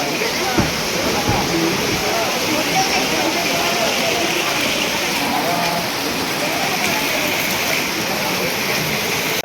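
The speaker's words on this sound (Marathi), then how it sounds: "दिस इज अ धबधबा दिस इज अ धबधबा" Steady, dense rushing water from a small waterfall roars without a break, broadband and constant, with a faint voice briefly audible.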